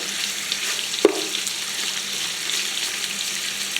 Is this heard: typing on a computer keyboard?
no